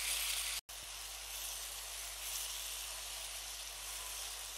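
Chopped tomatoes and coriander cook in a pan, giving a faint, steady sizzle and hiss with a brief dropout near the start and no voices.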